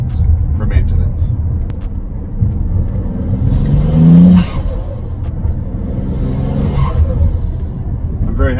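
A rebuilt BMW N54 engine fires up for its first start, a close low engine rumble with a brief rising rev in the middle, while people talk throughout.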